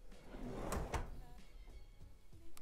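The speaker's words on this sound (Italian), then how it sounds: "non va a sbattere ma si chiude dolcemente grazie a una molla inserita nelle guide." A full-extension wooden drawer on spring-damped soft-close runners glides shut in a workshop, giving a soft slide and a couple of muted thuds at close range, with no slam.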